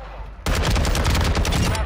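Rapid, dense gunfire from a shooter video game erupts suddenly after a quiet moment and continues loud and sustained as a mix of overlapping shots and automatic bursts.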